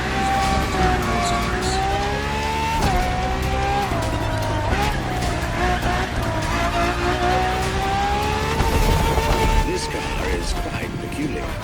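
Ferrari FXXK, a laboratory-enhanced LaFerrari, racing in The Crew Motorfest video game: a loud, continuous high engine drone with shifting pitch and tire squeal, steady throughout without breaks.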